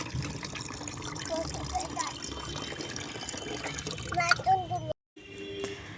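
Tap water runs steadily and close by while a boy washes dishes and flowers at a home sink, splashing throughout, with a brief cut of silence near the end and voices faintly under the flow.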